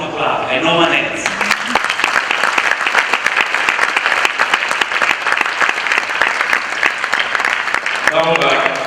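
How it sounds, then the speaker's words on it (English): An audience at a graduate sales training session breaks into loud, dense applause that runs steadily for most of the stretch, with a speaker's voice heard briefly before it starts and again as it fades. "you have to clap and no one else"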